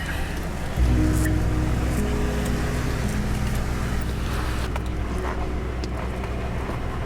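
A 4x4 vehicle creeping down a steep trail hill in Utah, its engine droning low and steady with a constant rumble of tires and wind noise from start to finish.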